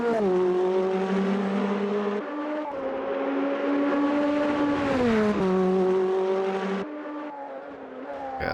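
A Nissan race car in Automobilista 2 drones through the gears with its engine note rising and dropping at each shift while the tires hiss. It is steady and fairly loud throughout, with no talking.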